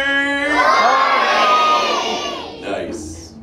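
Audience at the Epcot Crush show, crowd of children and adults shouting together in one loud sustained call lasting a couple of seconds, then fading into scattered voices.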